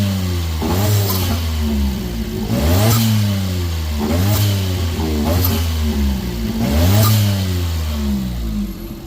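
A Honda Beat PP1 engine fitted with new fuel injectors revs repeatedly: five throttle blips about every two seconds rise and fall over a steady idle, loud and close, with no talk.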